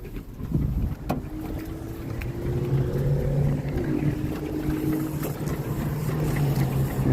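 A car engine idles steadily after a fuel pump replacement, with the tank low on gas and the engine needing tuning. The hum is low and continuous, with a faint droning tone and some wind over the microphone.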